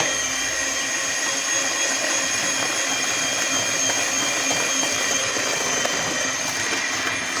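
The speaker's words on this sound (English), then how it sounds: "or as we use the electric mix, so that we do it a bit faster." An electric mixer beats coconut cake batter until the sugar dissolves, giving a steady, loud, continuous whirring motor drone that holds unchanged throughout, close to the mic, with no speech.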